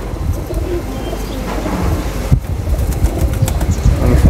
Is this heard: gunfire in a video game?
no